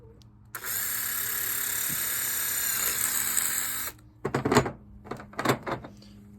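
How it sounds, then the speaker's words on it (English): A power drill whines steadily for a few seconds, then stops; several short, sharp grinding bursts follow as the bit drills out metal rivets on a 2004 Dodge Dakota tonneau cover. "I'm gonna end up doing is getting my drill out, and I'll just drill these out"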